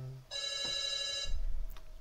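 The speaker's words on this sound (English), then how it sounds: "Phone!" Telephone ringing with a bright electronic tone, steady and fairly clear for over a second before cutting off, followed by low shuffling and room noise during a tabletop werewolf game.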